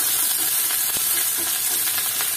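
Onions and garlic frying in hot oil in a pan, a dense, continuous sizzle with faint crackles and a soft stir or two, close and without talk.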